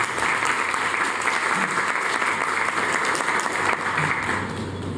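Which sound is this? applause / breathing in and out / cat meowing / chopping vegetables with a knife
applause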